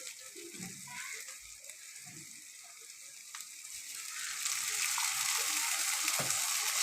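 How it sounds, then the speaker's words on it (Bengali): Water poured onto fried spice masala in a pan, a gentle sizzle that swells into a broad steady hiss of boiling, with a few soft clinks of a spoon, close and quiet, no voices. "মশলা ভাজার পর আমি একটু জল দিলাম। জলটা ফুটছে।"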